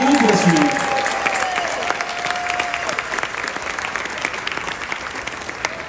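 Applause from diners in a cruise ship's main dining room on the Utopia of the Seas, a broad steady clatter of many hands that starts loud and continues throughout, with a faint tone and brief voices early on.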